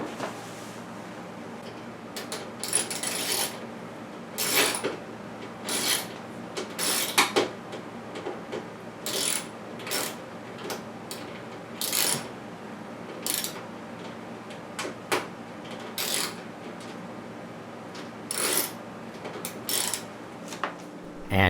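Repeated ratchet clicks in short, irregular bursts as bolts are loosened from the front panel of a GE JBS55DM2WW electric stove, close and fairly clear over a steady low hum, with no speech.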